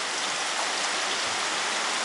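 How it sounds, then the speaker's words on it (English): Steady evening rainfall, a dense continuous hiss of drops with no breaks, moderately loud and close, with no voices. "And the rain has just started."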